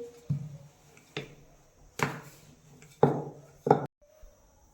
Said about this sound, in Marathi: आता इथे मी लाटून घेणार आहे